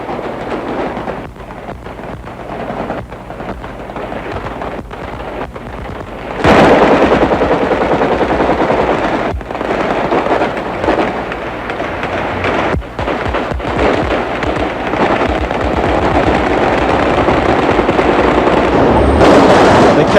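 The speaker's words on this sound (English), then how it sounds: "this departure became something of a celebration, with the PLO going out, guns blazing." Celebratory gunfire erupts as PLO fighters leave Beirut in 1982: dense, sustained rattling of automatic weapons rolls on without pause, growing louder partway through amid crowd noise.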